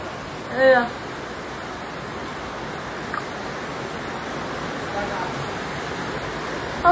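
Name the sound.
heavy rain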